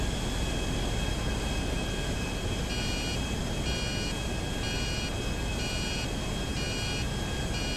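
Airplane in GTA 5 Online, a steady loud engine roar with wind-like rush throughout, joined midway by a short series of evenly spaced electronic beeps, with no talking.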